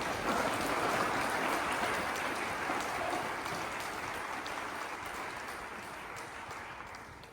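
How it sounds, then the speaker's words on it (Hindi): An audience at a business plan presentation claps together in a dense, steady wash of applause that slowly fades over several seconds. "जैसे आपको इनकम दिखाई देती है तो ताली तो बनती है ना"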